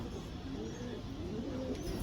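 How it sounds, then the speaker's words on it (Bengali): Shakdum pigeon in a loft giving soft, low repeated coos, faint against a busy background murmur. "আর একটা শাকদম পায়রা আছে"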